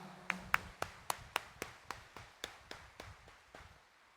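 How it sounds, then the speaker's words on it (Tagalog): A church congregation at a Quiapo Church morning mass claps in a steady series of about a dozen sharp, evenly spaced claps, moderately distant in a reverberant hall, fading toward the end. "itaas nga ang kamay at pumalakpak ng mas malakas"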